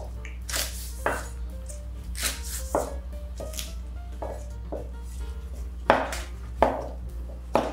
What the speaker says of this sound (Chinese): 青葱切葱花